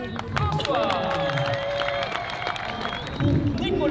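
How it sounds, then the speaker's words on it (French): Spectators applaud and cheer at the final of the French drift championship, a broad roar of clapping beneath an announcer's voice on the loudspeaker, swelling louder near the end. "Tonnerre d'applaudissements, s'il vous plaît, mesdames et messieurs, Axel François."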